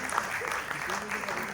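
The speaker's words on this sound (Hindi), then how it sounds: "प्यार मोहब्बत खुलूस चाहत अपनी तालियों की शक्ल में उन तक पहुंचाइएगा" Audience applause at an arts council seminar and drama show in Karachi, a brief, fairly faint wash of clapping heard from a distance, steady throughout.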